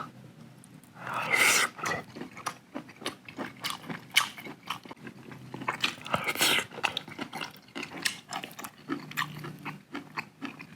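Close, crunchy chewing and biting of home-cooked sirloin steak, with irregular wet bites and mouth sounds repeating steadily and no talk.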